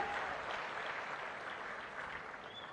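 An audience at a political meeting claps steadily together, a dense even patter of applause heard from a distance, faint and sustained without a break.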